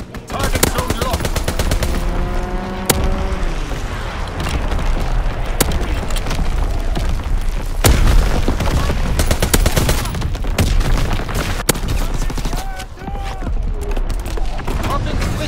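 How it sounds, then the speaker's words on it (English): In a Call of Duty: WWII team deathmatch, dense gunfire, machine-gun bursts and booming artillery from a strafing run roar on continuously and loudly, with in-game voices under the battle. "Fighter pilot inbound, strafing the target."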